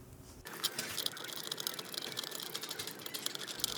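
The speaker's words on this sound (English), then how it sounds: "4 screws just screwed into the blanket should hold it in place." Screws are driven into a ceramic fibre blanket lining the lid of a budget forge kit, giving a steady, busy mechanical rattling buzz that starts abruptly and runs close and continuous for about three seconds.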